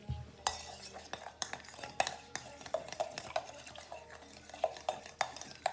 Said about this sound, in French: il va falloir bien mélanger